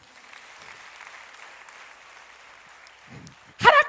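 A church congregation at a deacon's sermon breaks into applause near the end, a short loud burst of clapping after a few seconds of soft, diffuse room noise.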